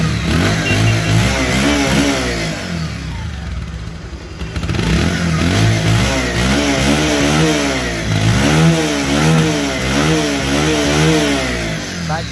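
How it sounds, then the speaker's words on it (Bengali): A second-hand Bajaj Pulsar 150cc motorcycle engine, close and loud, idling then revved repeatedly in rising and falling bursts, with a brief dip midway. "এখন দেখাবো হচ্ছে বাইকটির সাউন্ড কোয়ালিটি এবং পারফরমেন্স।"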